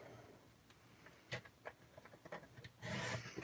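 A paper trimmer slices through cardstock during a card-making session, giving soft scraping rasps and small clicks, then a louder brushing swipe near the end, quiet and close with no talking.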